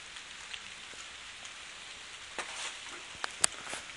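Rain falls steadily on a campfire, a soft even hiss with a few sharper drips and crackles near the end, faint and steady with no voices.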